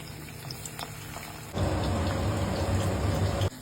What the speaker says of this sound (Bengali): কড়াইয়ে তেল গরম হয়ে গেছে এবার এই পনির গুলো একে একে আমি কড়াইয়ে ছেড়ে দেব